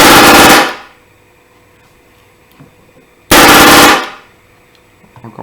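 An airsoft M249 Hydra Wolverine set to a lower fire rate lets off two short loud bursts, each about half a second to a second long and a few seconds apart, with quiet room tone and faint clicks between them.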